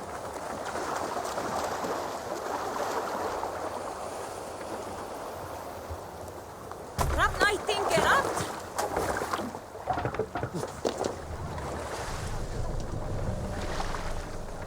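Viking longship under sail in Assassin's Creed, water rushing steadily against the hull with wind, then a burst of louder splashing and creaking around the middle before settling back into steady sailing noise.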